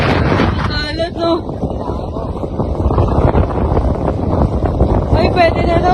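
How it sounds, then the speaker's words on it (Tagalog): Strong wind buffets the microphone in a constant roaring rush at Matabungkay Beach in the Philippines, with people talking intermittently underneath in Filipino. "Ang lakas ng hangin."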